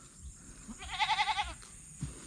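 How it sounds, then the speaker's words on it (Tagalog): A tethered pet goat at the edge of a rice paddy lets out one quavering, moderately close bleat lasting about half a second, with quiet outdoor background before and after. "Ayan na mga kasinag yung alaga nating kambing."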